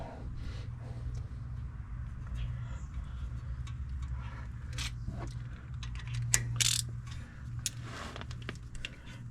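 A hand ratchet clicks in quick repeated bursts while tightening an ABS wheel speed sensor bolt on a 2015 Ford Escape SE, close and fairly quiet over a low steady hum.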